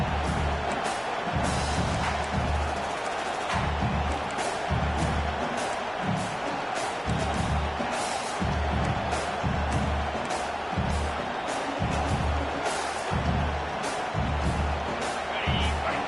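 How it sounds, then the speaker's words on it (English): Dense stadium crowd at a Clemson football game roaring continuously to back the home defense, a sustained loud wash of cheering with pulsing rhythmic surges throughout. "Listen to this crowd just shaking the girders of this place trying to help their defense."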